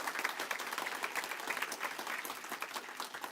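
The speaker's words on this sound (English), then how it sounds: "let's give a round of applause again for all of us in the room" A conference audience in a main session room gives a round of applause, steady dense clapping from many hands throughout, moderately distant and without pause.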